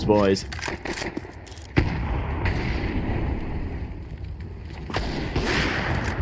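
Pistol gunfire in a Counter-Strike 2 esports match, a burst of sharp shots layered under energetic casters' commentary, with a loud crack near the two-second mark amid continuous game noise.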